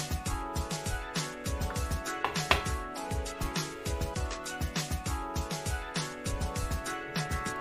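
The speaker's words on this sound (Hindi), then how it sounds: "अब हम पीसेस करके काट लेंगे।" A knife chopping potato dough into pieces on a board for crispy bubble potato chips, quick even knocks in a brisk steady rhythm, close and crisp, no voices.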